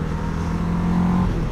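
Mash FR750 motorcycle with a reworked 750 cc Kawasaki ER6N-based twin engine, a steady low engine drone heard continuously and fairly loud, with a slight rise in pitch partway through.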